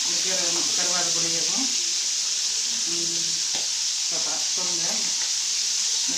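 Dried fish (karuvadu) fries in oil with a constant bright sizzle while a person talks over it throughout.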